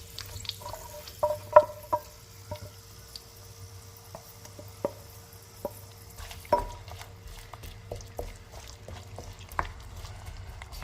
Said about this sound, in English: You can start throwing in your onions and start cooking that off